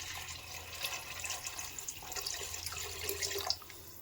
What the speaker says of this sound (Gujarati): પાણી આમાં દસ ગણું પાણી નાખવાનું હોય જો આ રીતે